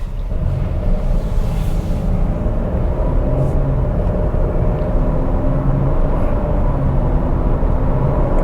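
A 2021 Cadillac XT6 SUV accelerates, heard from inside as a steady, loud low engine and road rumble that holds strong throughout with a slight rising tone.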